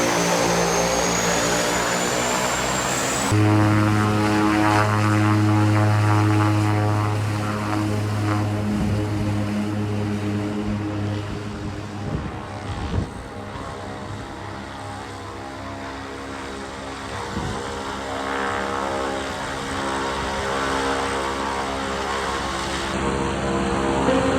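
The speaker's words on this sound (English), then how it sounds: "before leaving to go watch planes head from above the runway" A propeller airplane roars loudly on a mountain runway near the Everest trek, its engine drone steady and dominant, then swelling and slowly fading as it takes off.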